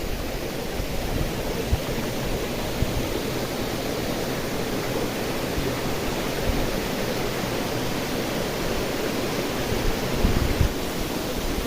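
A constant, full roar of falling water from the Kali Pancur waterfall in Central Java, heard from close range, unbroken and without voices.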